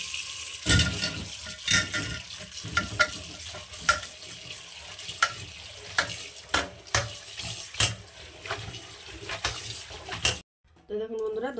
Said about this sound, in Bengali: ধনেপাতাগুলো খুব ভালো করে ধুয়ে নিয়েছি